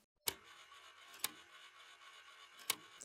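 A looping cassette tape sample plays as a faint, hissy textured bed. Three sharp clicks or ticks punctuate it at irregular intervals, and there is no talking.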